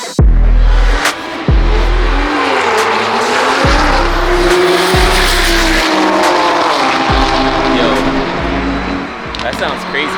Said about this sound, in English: It's really loud, you guys can tell. If you guys didn't know, there's racing over there.